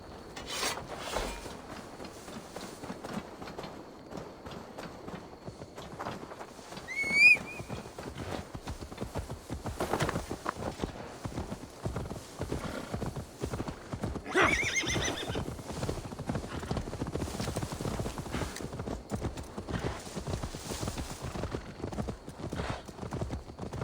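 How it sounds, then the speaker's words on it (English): Horse hooves clip-clop steadily on the ground throughout a scene in the video game Assassin's Creed Valhalla, with a sharp whinny partway through, a second higher neigh later, and occasional rubbing and creaking noises over the footsteps. "Now to deliver Magni his horse."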